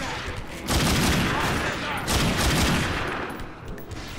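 Heavy gunfire rattles in the video game The Darkness 2, with dense overlapping volleys and booming shots that swell twice at close range, while a voice speaks faintly in the background.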